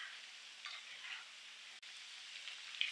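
Fish fillet sizzles in hot oil in a frying pan, a soft, steady crackling hiss with occasional small pops and no talk.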